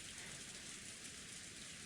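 Rain ambience from the Umineko video game, a steady, soft, even hiss of falling rain with no breaks or voices, continuous and uniform throughout.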